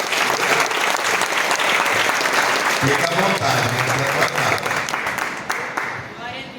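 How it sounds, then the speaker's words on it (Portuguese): Loud, dense applause from a church congregation praising God, continuous clapping throughout with voices calling out over it and a short spoken phrase near the end. "Vamos aplaudir o nosso Deus."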